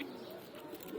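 Pigeons coo softly and steadily for about a second in a loft where females are let out to fly, the low murmuring calls close and continuous with no talk.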